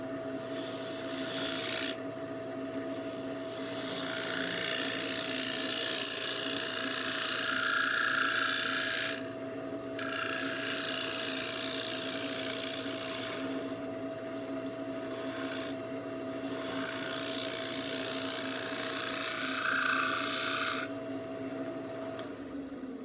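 A wooden snack bowl is scraped on a lathe as it turns, giving a steady close rasping hiss under a constant motor hum, broken by several short pauses.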